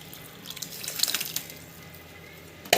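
Tamarind water for puli kolambu pours into a pan with a brief liquid splash and trickle, a short burst of pouring followed by quieter sizzling and a final splash near the end, close and without talk.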